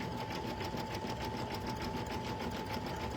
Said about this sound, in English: Do you ever just watch your machine sometimes and get hypnotized by just watching the stitches go?